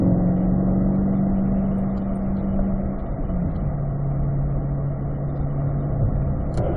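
Chevrolet C8 Corvette rolling through a corner at Spring Mountain track, a steady engine drone heard from inside the car, the pitch holding and then easing slightly lower partway through.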